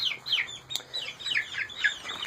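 Young chicks and ducklings in a farm pen, giving repeated high, downward-sliding peeps in quick irregular bursts, close and clear, with no talk.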